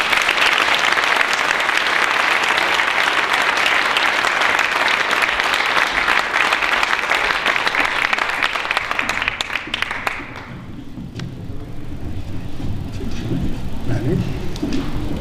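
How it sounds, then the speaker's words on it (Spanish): An audience at a tribute event applauds loudly and steadily for about ten seconds. The clapping then thins and fades, and quieter room sounds and a voice follow. "Un aplauso para él."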